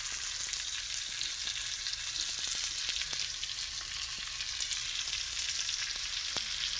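Potatoes fry in hot bacon grease in a pan turned up high, giving a steady, close, crackling sizzle with scattered sharp pops throughout and no talking.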